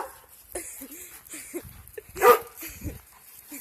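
A hyper dog barking and yipping in short scattered bursts, fairly close, with quiet gaps between and a louder bark near the middle.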